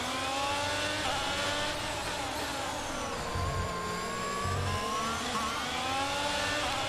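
A Formula 1 car in the F1 22 racing game slides through corners on the Azerbaijan street circuit, its engine revving steadily while the tyres squeal, continuous and loud with no talking.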